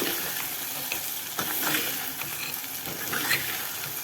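Ridge gourd and dried fish sauté in a pan with a steady, close sizzle and occasional stirring scrapes, no talking over it.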